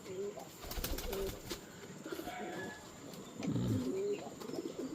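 Soft pigeon coos repeat a few times against a faint outdoor background, with low murmuring and scattered ambient noise.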